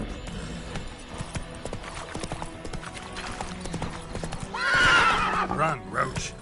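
Horse hooves clip-clopping at a gallop in The Witcher 3 next-gen, a steady rhythmic beat at moderate level with a loud whinny near the five-second mark.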